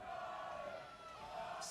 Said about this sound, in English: And some real support coming from the Scottish crowd.